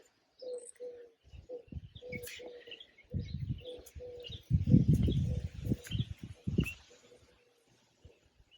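Birds calling outdoors in a garden: a pigeon's soft repeated cooing mixed with brief chirps, plus some nearby rustling and low thumps.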